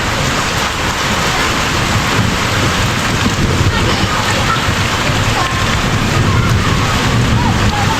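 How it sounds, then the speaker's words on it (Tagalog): Heavy rain pours down in a dense, steady hiss, loud and close, with low rumbles of thunder mixed into the downpour. "At may kulog pa at kiglat."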